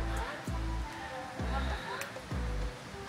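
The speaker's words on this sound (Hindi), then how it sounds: "पीछे पानी गिरने की आवाज़ आ रही है यहाँ पे।" Water falls near a wooden house in the Swiss countryside, making a steady rushing wash beneath a man's close, ongoing talk.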